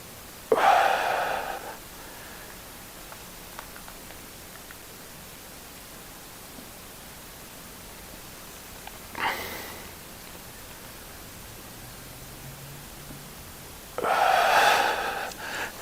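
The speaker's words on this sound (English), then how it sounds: "Nice deep breaths." Deep, slow breaths taken during a hip mobility stretch, heard as three distinct airy exhalations spaced several seconds apart over a quiet, steady background hiss, with no talking.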